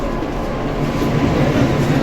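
A Vande Bharat train at Yeshwantpur station gives off a steady, loud rail rumble with broadband hiss that holds evenly from start to finish, with no voices.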